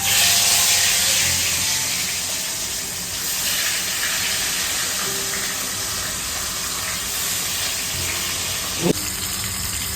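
Fish is laid into hot salted oil in a home kitchen pan and fries with a steady, dense sizzle and spatter throughout. A single sharp knock sounds near the end.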